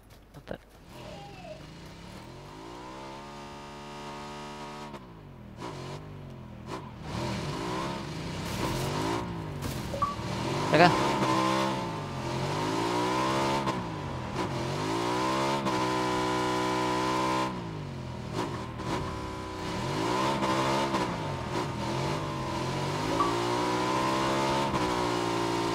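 Motorbike engine revving and droning continuously in PUBG on Xbox One X, pitch rising and falling through repeated accelerations, moderately loud, with game effects and players talking over it.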